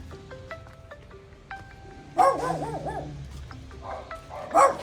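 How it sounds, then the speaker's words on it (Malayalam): Several dogs bark and yelp in bursts, some howling tones rising and falling, fairly close, with short pauses and a high whine between. "ഒരു കൂട്ടം പട്ടികളുണ്ട്"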